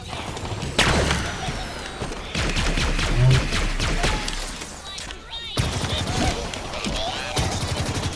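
Gunfire and crashing environmental destruction in Halo Infinite, with dense bursts of shots, thuds and smashing debris, loud and continuous across the stretch, with a brief lull before the blasts resume.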